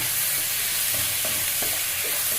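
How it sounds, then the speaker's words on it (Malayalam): Crushed ginger and tomato sauté in a pan, a steady loud sizzle with soft spatula scrapes and light taps as the mixture is stirred, close and continuous. "നല്ലോണം ഒന്ന് വഴറ്റിയെടുക്കണം"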